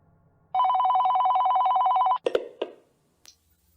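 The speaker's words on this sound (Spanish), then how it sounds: "el teléfono volvió a sonar en el local supuestamente clausurado" A telephone rings in a supposedly shut-down premises: one steady, loud, unbroken electronic ring of under two seconds, then a few sharp clattering knocks as the handset is picked up, followed by quiet.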